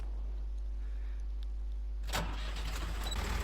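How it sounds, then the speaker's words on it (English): A 60 horsepower four-wheel drive tractor engine cranks and catches partway through, turning a low steady hum into a louder rumbling idle up close. "we'll jump on the tractor and hopefully it will start up"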